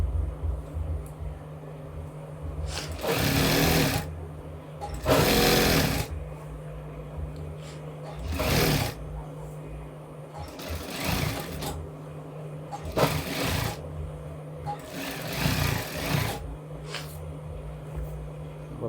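A mini sewing machine stitching a palazzo salwar runs in several short, loud bursts of rapid mechanical whirring, separated by quieter pauses with faint handling noise, close up.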